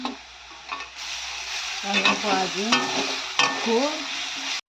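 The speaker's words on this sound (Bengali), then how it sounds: "আর এদিকে একটু আলু ভাজা হচ্ছে" Finely chopped potatoes fry in a pan during a Bengali home lunch cook, a steady close sizzle with several bursts of stirring and scraping and no voices.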